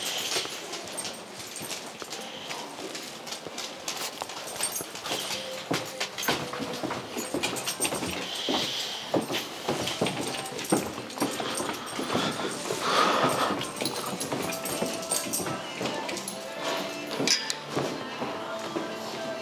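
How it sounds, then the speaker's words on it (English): Two dogs moving around during functional obedience training, with scuffling, light footfalls and faint whimpers spread through a busy, noisy space where some voices can be heard. "Sage and Turk are two dogs that board with us very regularly"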